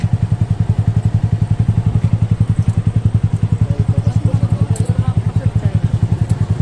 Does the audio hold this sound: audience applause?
no